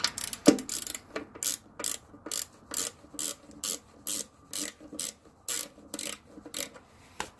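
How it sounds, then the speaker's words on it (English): A Pittsburgh 72-tooth pass-through ratchet from Harbor Freight clicks through repeated back-and-forth strokes, each stroke a fine rapid buzz of pawl clicks, about a dozen evenly spaced bursts up close with no talking. "I mean, feels like any other ratchet, I suppose."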